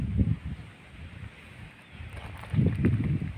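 Gusty wind buffets the microphone in low rumbling bursts, strongest at the start and again near the end, with no voices.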